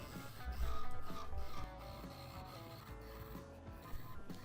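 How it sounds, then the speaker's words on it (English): A lathe spins a chunk of white oak while an Easy Wood Tools Easy Rougher cuts into it, giving a close, rough scraping hum that is louder at first, then steadier and softer. "I'm using my Easy Wood Tools Easy Rougher"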